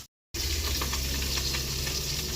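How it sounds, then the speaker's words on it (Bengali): Pabda fish frying in hot oil, a steady loud sizzle that starts abruptly after a brief silence and continues without pause, with no talk over it. "মাছ ভাজা"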